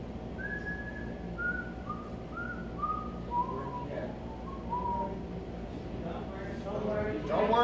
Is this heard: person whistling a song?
yes